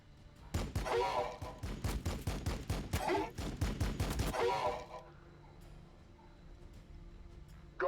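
Rapid bursts of gunfire from the Battlesector strategy video game crackle densely for about four seconds, then give way to quieter background game sounds.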